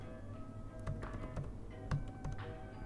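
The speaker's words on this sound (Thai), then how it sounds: "คือเวลาเราพิมพ์แล้วเนี่ย เสียงมันจะเป็นประมาณนี้นะครับ" Soft, scattered clicks of MacBook Pro 14 M1 Pro laptop keys being typed, close and quiet, with a faint steady hum underneath.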